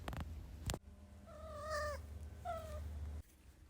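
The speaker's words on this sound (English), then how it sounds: "my cat is has put his paw through the side of the door and started meowing" A cat at a home door meows twice, close and clear, the first call drawn out and the second shorter, over a steady low hum after a sharp knock.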